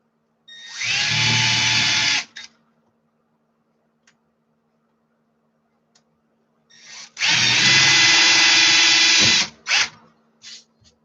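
A power drill fitted with sharp bits bores through material during work on a 350 amp electrical service, in two loud, steady bursts of about one and two seconds each, separated by quiet, with no talk.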